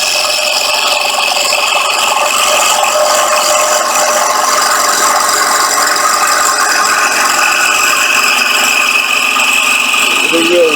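A woodturning gouge rides the bevel across a rough wooden blank spinning on a lathe, making a continuous loud scraping and chattering cut with a steady mechanical whir underneath.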